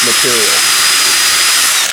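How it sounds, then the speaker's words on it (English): Power drill boring a 3/8 inch hole in wood, a loud, steady high-pitched whir with a brief burst of low speech at the start, then winding down at the end. "I think I'm going to drill a hole right here somewhere at 3/8 of an inch"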